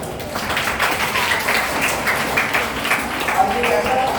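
Crowd of children and guardians at a school prize distribution ceremony applauding their teachers, a steady wash of clapping throughout with voices mixed in.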